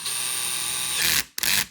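A torque-adjustable power drill's clutch slips while driving a screw during assembly of a Tamiya Racing Fighter DT-03 TT 1/10 RC car, a steady close whirring ratchet buzz that stops briefly and then resumes.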